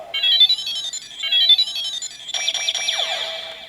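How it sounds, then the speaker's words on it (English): A Kamen Rider Zi-O DX K-Touch 21 toy plays a countdown: electronic beeps chirp a short melody twice, then a warbling, descending tone sequence follows, bright and close with no talking. "has an interesting kind of countdown noise"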